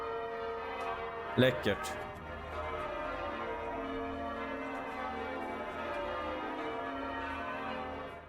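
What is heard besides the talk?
church bells ringing at a cathedral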